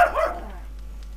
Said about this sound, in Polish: niech se szczeka tam, ten pies tam